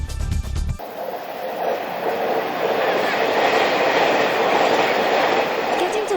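Steady rumble and rattle inside a moving train from Taipei to Hualien, Taiwan, continuous and fairly loud, after a brief burst of low noise at the start.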